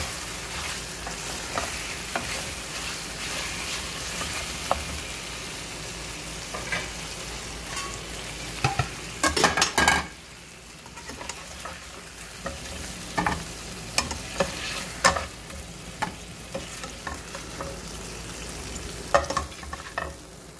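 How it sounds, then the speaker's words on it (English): Onion fries in a pan for a stir-fry chicken dish, a continuous close sizzle broken by clatters and scrapes of a utensil stirring, with a louder burst of crackling midway. "I need to remove and then I fry onion."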